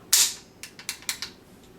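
A Yugoslavian Zastava AK bolt slams forward after the magazine is pulled, giving one sharp metallic clack followed by several quieter rattling clicks, all close and with no talking.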